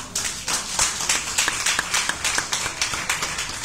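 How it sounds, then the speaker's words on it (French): A church congregation claps for the mothers, a steady crowd patter of many hands with a few sharper individual claps standing out, moderately loud and continuous throughout. "Vous allez applaudir aujourd'hui, hein?"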